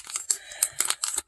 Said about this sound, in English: you're going to fold this to the middle